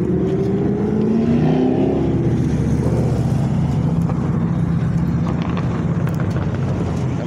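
A rare classic car with T-tops and a Hurst shifter runs close by, its engine giving a steady, throaty rumble with a slight rise and fall throughout.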